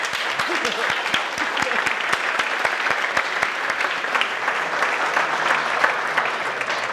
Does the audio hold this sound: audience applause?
yes